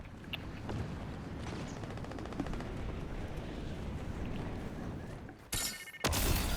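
A bolt-action sniper rifle in Fortnite fires with loud, sharp cracks near the end, set against steady game ambience and weapon-handling clicks.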